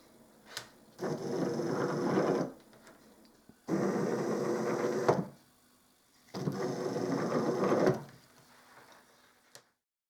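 Motor driving a screw through a belt and a pair of pulleys on a robot arm build, whirring in three separate bursts of about one and a half seconds each, with short quiet gaps between them.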